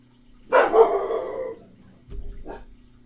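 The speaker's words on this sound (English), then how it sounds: "Dogs, chill, please." Dogs bark at a home, one loud cluster of barks near the start and a second shorter bark a moment later, close by and with no talking.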